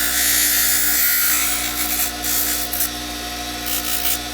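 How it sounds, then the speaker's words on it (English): A power grinder cuts a groove into a twisted cut-off nylon piece, a continuous high whining buzz that shifts slightly in pitch as pressure changes, close and loud throughout without speech. "I grind in the middle here a groove for the nylon"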